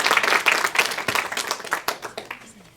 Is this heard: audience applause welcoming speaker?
yes